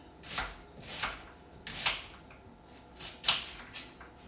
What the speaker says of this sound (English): Now we want the onions with a relatively fine dice